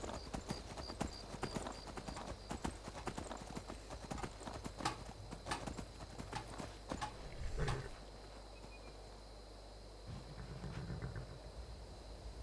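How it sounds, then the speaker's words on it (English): Rhythmic clip-clop of horse hooves trotting at a steady pace in the video game Skyrim, then slowing and stopping, with a low ambient hum underneath. "I see Jazago on his horse."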